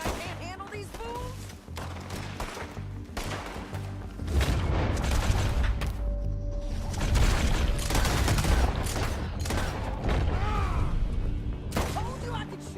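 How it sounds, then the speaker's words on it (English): Gunfire from a Red Dead Redemption 2 shootout fills the scene, with repeated loud shots and booms, denser and heavier in the second half, while voices talk over the action. "Told you I could shoot a gun, didn't I?"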